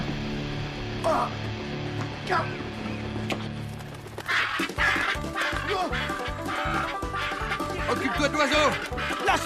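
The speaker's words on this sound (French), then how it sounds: "Attrape la dinde, Jimbo!" A turkey squawks and gobbles in rapid, agitated bursts, loud and close, amid a scuffle with people talking.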